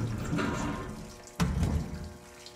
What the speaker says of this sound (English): break that one pipe, the, the water pipe, so that water shooting down on me